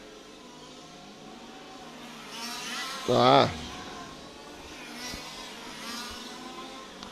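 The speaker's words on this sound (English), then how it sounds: "Engine's still running." Touring race car engine idling on after the car has lost a wheel during qualifying at Vila Real, a faint steady buzz under commentary with a short loud exclamation partway through.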